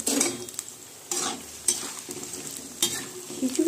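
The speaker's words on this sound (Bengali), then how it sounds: "তো গাজর আলুটা হালকা লাল করে আমি ভেজে নেব" Carrot and potato pieces fry in hot oil, a soft sizzle punctuated by four or five bursts of scraping as a spoon turns them in the pan.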